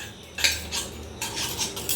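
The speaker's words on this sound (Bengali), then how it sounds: "আমি এতে পুরো তেল গুলিয়ে নিলাম" Oil stirred with a metal spoon in a large bowl or plate while making steamed egg curry: a few light clinks and scrapes of metal on the dish in a quiet kitchen, close and soft, with no voices.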